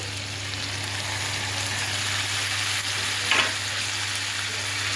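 Tomatoes added after garlic paste fry in a hot pan for chicken sukka, giving a steady, even sizzle throughout with one brief stir or clatter near the end and no talking.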